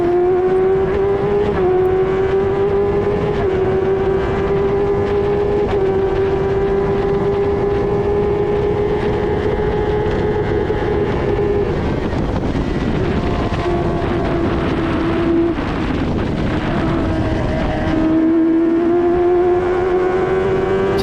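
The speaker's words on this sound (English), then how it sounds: "letting you enjoy the engine sound, take all of Cadwell in" An F1000 race car engine roars from onboard at Cadwell Park, loud and continuous for about twenty seconds with a high, steady tone that dips and climbs through gear changes.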